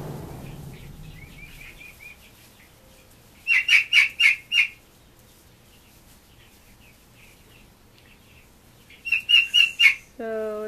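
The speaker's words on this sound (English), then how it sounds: "So that's it for the Barnyard Bird update." Barnyard birds, including turkeys and meat birds, give two short bursts of rapid chirping calls, a few seconds apart, over a quiet background.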